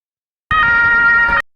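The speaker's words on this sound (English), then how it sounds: "Oh my God, fucking sirens!" An emergency vehicle siren blares loud and close for about a second, a steady wailing tone that starts abruptly and cuts off just as suddenly, with no talking.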